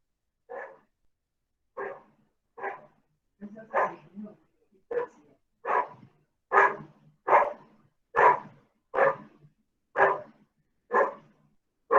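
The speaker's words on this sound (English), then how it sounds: "My little dog PP is barking" A small pet dog barks about a dozen times in a steady, evenly spaced series of sharp, mid-pitched yaps, fairly close and quiet between barks, with no talk over them.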